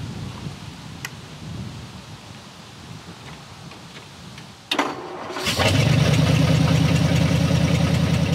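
A Flathead Ford engine, first driven since 1966, is cranked and catches near the midpoint, then settles into a loud, steady rumbling run after a quieter stretch of background noise.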